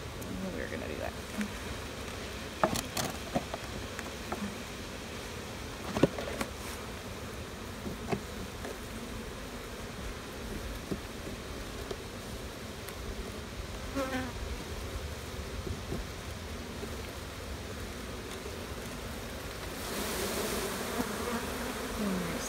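Honey bees buzz steadily around an open hive during a fall inspection, a dense continuous drone with individual bees passing close, while a person talks quietly over it.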